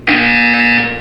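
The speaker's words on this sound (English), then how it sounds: "You will hear a buzzer." A harsh electronic buzzer from the video game Portal 2 blares once, starting abruptly and holding a loud, steady, nasal tone for about a second before tapering slightly, with no talk over it.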